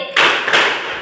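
Two loud group claps from students in a classroom rhythm exercise, about a third of a second apart, each a sharp close burst that rings briefly, with no talking.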